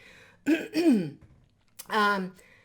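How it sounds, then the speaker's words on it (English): Two bursts of throat clearing, close and fairly loud, separated by a short pause. "I'm having a hard time with clearing my throat."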